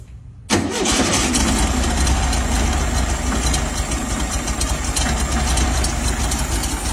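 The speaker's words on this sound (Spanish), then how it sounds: "Ahí está el bocho muy inconstante." A Volkswagen Beetle engine with a misfire cranks and catches, then runs at a loud, steady idle with an uneven, lumpy pulse, close by and alone.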